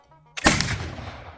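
A single sharp flintlock gunshot crashes out loud and close in a pine forest in Montana, its report trailing off in a long echoing decay after a brief quiet lead-in.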